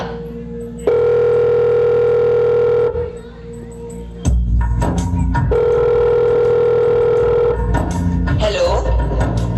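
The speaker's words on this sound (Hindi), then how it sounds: "अभी फोन करके पूछती हूँ कि ठीक ठाक घर पहुँच गया।" A telephone rings in a home with a loud, steady electronic tone. It plays in long sustained bursts separated by short gaps, with no voices over it.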